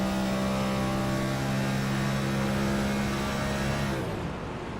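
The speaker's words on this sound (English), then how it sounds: "you can hear him popping that clutch." A stock car engine in an oval-track racing video game at Atlanta hums at a steady, loud pitch, then abruptly cuts out near the end, leaving a quieter wash of background noise.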